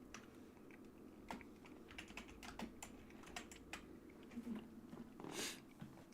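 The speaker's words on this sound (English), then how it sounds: "I also have a mechanical keyboard, so apologies for unintentional ASMR" Fingers clatter on a mechanical keyboard in a quiet room, soft irregular bursts of clicky keystrokes with brief pauses, close and faint.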